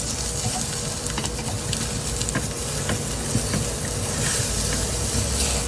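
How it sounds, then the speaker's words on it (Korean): Potato strips stir-frying with onion and carrot in a pan, a loud, steady sizzle with occasional scraping stirs close up, continuous throughout with no talking. "감자 조금 볶아주셨으면 이제 양파랑 당근도 투하."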